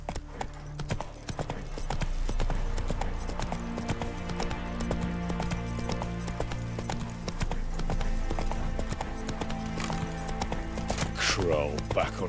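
A horse gallops in The Witcher 3, its steady, rhythmic clip-clop of hooves running loud and close throughout, layered over game music, with brief voices and a short whinny near the end.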